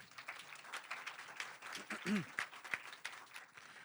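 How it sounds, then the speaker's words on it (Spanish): Audience applause at a talk on short filmmaking, a crowd clapping steadily in a mid-distance room while a voice speaks briefly over it. "un aplauso para él, por favor"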